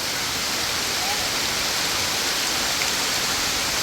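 Heavy rain falling outdoors during a trip to gather mushrooms, a loud, dense, continuous hiss that fills the whole scene with no break.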